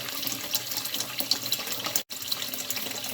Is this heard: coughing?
no